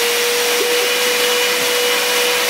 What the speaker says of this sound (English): Use a vacuum to get dirt out of your clothes.